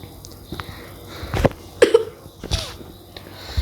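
A person gives a few short, harsh coughs in separate bursts, close to the microphone and alone against a quiet background.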